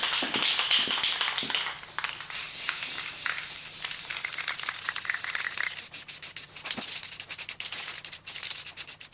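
Primer spray-painted onto a degreased Triumph TR4 engine block, broad hissing spray bursts close by, steady for stretches, then breaking into rapid short on-off pulses near the end.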